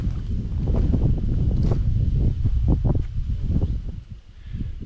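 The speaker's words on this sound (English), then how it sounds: "It's so windy, I don't know when that's going to die down." Strong wind gusting at a hilltop campsite in the mountains, a loud, rumbling roar of wind buffeting the microphone, with a few rustles and knocks, easing briefly near the end.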